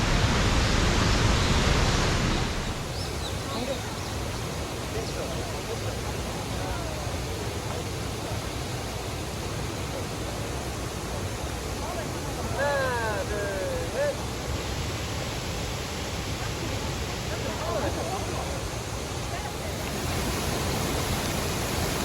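Cheonjiyeon waterfall flowing strongly, a dense, steady roar of falling water heard up close, louder at the start and continuing unbroken, with faint bird chirps briefly rising above it.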